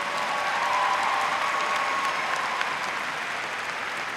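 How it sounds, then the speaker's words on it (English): Sustained applause from the crowd at a 2013 Waco High School graduation ceremony, dense and even clapping filling the whole stretch at a steady loudness. "please join me in a round of applause"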